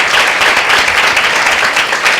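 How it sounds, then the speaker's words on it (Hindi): Church congregation giving a loud, sustained round of applause during a worship meeting, dense clapping filling the whole stretch at steady volume with no talk over it. "उस प्यार के लिए एक जोरदार ताली हो जाए"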